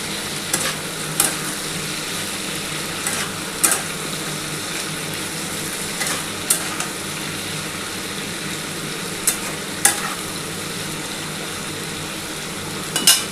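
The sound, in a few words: frying yardlong beans with onion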